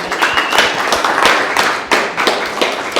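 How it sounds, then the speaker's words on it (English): Audience applause following a two-hour irrigation presentation, a dense patter of hand claps filling the room with a few sharper slaps standing out, steady throughout. "let's give a round of applause."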